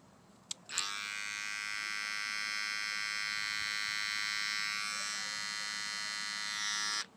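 Andis BGRC and Babyliss Gold FX hair clippers switch on after a click and run with a loud, steady electric buzz for about six seconds before cutting off.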